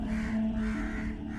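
A crow caws loudly several times in a row as a sound effect in a Hindi horror audio drama, the harsh calls close and steady with no speech over them.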